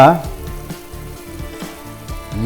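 Kadai paneer masala fries in butter and ghee while being stirred, a dense close sizzle with soft scraping strokes throughout, loud and continuous, with no talking.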